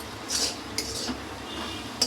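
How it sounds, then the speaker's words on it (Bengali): A spoon clinks and scrapes against a bowl while ground poppy seed and white mustard are mixed into a sweet-sour raw mango pickle, a few sharp metallic ticks over soft stirring, close and quiet. "এটা ভালো করে নাড়াচাড়া করে মিশিয়ে নেব"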